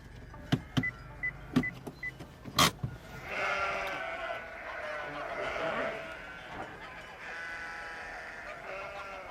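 Ewes bleat on a sheep farm on the border of the Drôme provençale and the Diois, France. A few sharp clicks come first, then drawn-out, wavering calls from several animals at close to middle distance.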